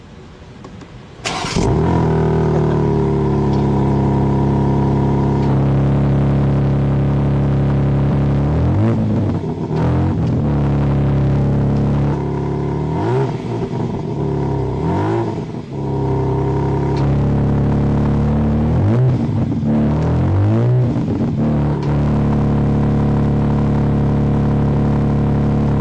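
BMW M4 Competition coupé at a dealership, its engine starting with a sharp burst and settling into a loud, steady exhaust rumble, then revved in several surging blips before easing back to idle, with no talk.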